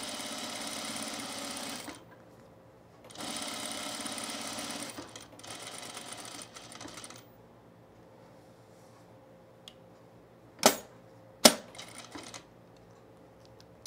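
A sewing machine stitches a men's shirt in two close, steady whirring runs of a couple of seconds each, then goes quiet apart from soft handling noises and a few sharp taps near the end.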